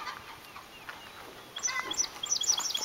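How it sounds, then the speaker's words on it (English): A crow calls outdoors among trees, a few harsh caws rising over quiet background in the second half, moderately near. "there's one crow"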